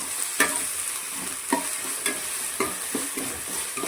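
Ginger garlic paste sizzles in a pan of hot tempering oil for a Mangalorean chicken curry, a steady hiss broken by a regular rhythm of spoon scrapes as it is stirred, with no voice.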